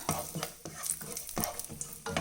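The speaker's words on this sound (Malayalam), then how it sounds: "പാൻ അടുപ്പത്ത് വെച്ച് നെയ്യ് ഒഴിച്ച് ചൂടായിട്ടുണ്ട്. അതിലേക്ക് കശുവണ്ടിപ്പരിപ്പ് ഇട്ട് കൊടുക്കാം." Cashew nuts fry in hot ghee in a pan, a quiet close sizzle punctuated by quick, repeated stirring scrapes of a spoon against the metal.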